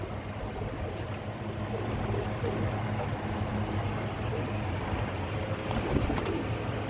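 Pigeons in a loft of prized breeding pairs coo in low, steady murmurs against a constant ambient hiss, with a few faint flutters and brief higher chirps near the end.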